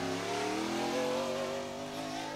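An Ultra4 off-road race car at the Big Sky 200 desert race in Broadview, Montana, its engine revving in a loud sustained drone that rises and holds, with no talk.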